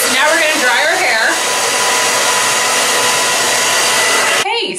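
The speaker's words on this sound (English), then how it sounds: "So now we're gonna dry our hair." Loud, steady whooshing drone of a hair dryer blowing on hair at close range, its airflow wavering slightly as the dryer moves around, then cutting off abruptly near the end.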